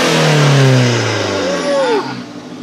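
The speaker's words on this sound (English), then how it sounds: "so let's do a little rev." A 2007 BMW 328i with a misfire revs up and settles, its engine note loud and close, rising and falling over a couple of seconds with no talk over it.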